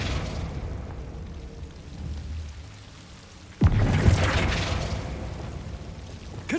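A Confringo fire spell explodes in Hogwarts Legacy: a sudden loud burst that follows a low rumbling stretch, then trails into a crackling, hissing roar that fades slowly.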